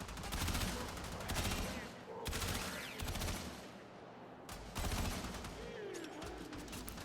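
Kuva Hind rifle firing in Warframe on PS5, with rapid bursts of shots in quick groups separated by short pauses, fairly close and dense.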